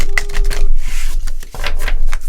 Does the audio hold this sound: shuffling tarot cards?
yes